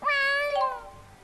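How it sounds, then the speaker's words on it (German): A cat meows once in the video game Tales of Xillia 2, a clear, drawn-out, slightly falling meow. "Katzen sind zurückgekehrt."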